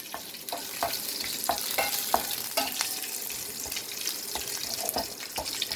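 Green chilies fry in a pan for a raw mango chutney, giving steady sizzling with scattered sharp pops and splatters throughout, moderately loud and close, with no talking.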